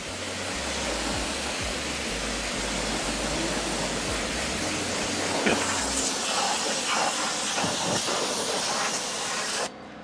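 A spray of water rinsing a vehicle's tires gives a loud, steady hiss with low rumbling underneath, shifting slightly as the spray moves, then cutting off abruptly near the end.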